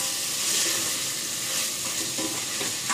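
Chopped onion and tomato sautéing in a hot pan for a biryani, a steady loud sizzle with faint stirring scrapes throughout, close up and without speech.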